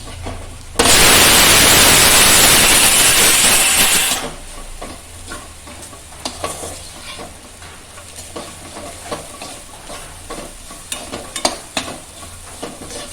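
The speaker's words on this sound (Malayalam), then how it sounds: "ഇത് ഒരല്പം കൂടെ ഒന്ന് ഇളക്കാം" Green gram mezhukkupuratti is stirred in a pan. A loud, steady sizzle for about three seconds is followed by quieter scraping and stirring clatters.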